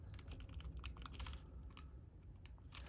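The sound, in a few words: clicky Nintendo Switch Joy-Con buttons being pressed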